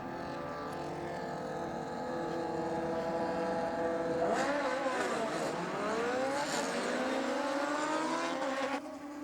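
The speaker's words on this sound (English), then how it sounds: "Nice launch there from the rider in the aeroflow lane" A drag racing motorcycle launches down the strip, its engine note rising and sweeping upward as it accelerates hard away, loud and steady before cutting off at the end.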